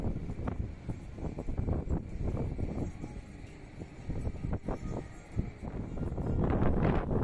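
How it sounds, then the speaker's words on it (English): Heavy wind gusting across the highest open top deck of a cruise ship, a continuous low roaring buffet on the microphone with fluctuating gusts and no voices. "there is heavy wind here all the time."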